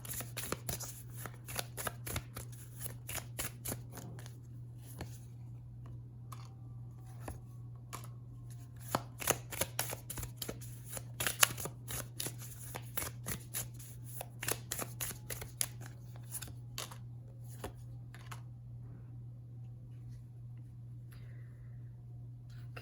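Oracle cards being shuffled by hand, repeated crisp riffling and slapping bursts in an irregular rhythm over a steady electrical hum, close and fairly quiet, with no talking.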